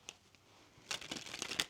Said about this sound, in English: I'm going to shuffle that again for you.